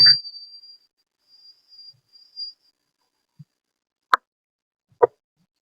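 Mustard seeds pop and splutter in hot oil for tempering, a few sparse, sharp crackles and ticks spaced apart over near silence.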